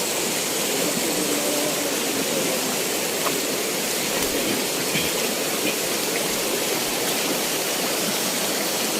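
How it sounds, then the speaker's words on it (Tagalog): River water rushes in a dense, constant roar, close and loud like a stream or small waterfall, with no pauses throughout. "Tingnan mo yung tubig, Tats"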